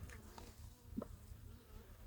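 Faint, steady buzzing of honeybees at a hive, a soft insect drone with no talking.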